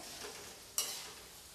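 Potato strips frying in hot oil a few at a time, a soft steady sizzle with one sharper crackling burst partway through, close and quiet with no talking.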